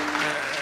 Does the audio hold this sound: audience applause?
yes